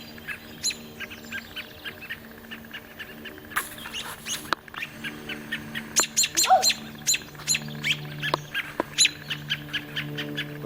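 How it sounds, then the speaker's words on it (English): A mockingbird gives repeated harsh squawks and sharp chirps at an irregular pace. The calls are clear and fairly close against a quiet outdoor background. "That bird's wanting to threaten me."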